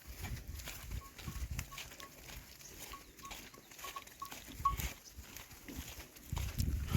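Cows walking past along a rural track, a soft, irregular patter of hooves and shuffling at moderate distance, with low rumbles and scattered outdoor noise throughout and no talking.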